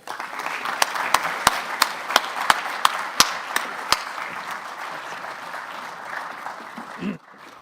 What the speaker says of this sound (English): please, a round of applause for our moderator, Aaron Weary.